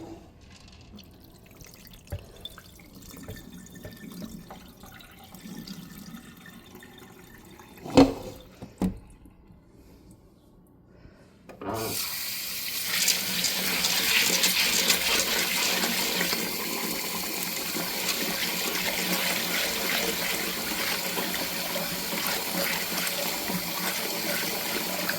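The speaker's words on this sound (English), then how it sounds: "I'll pour this off and put some more water on it until our water runs clearer." Dried peas being washed in a pot of water: soft sloshing and a couple of sharp knocks, then a loud, continuous rush as the water is poured off, heard close up with no talking.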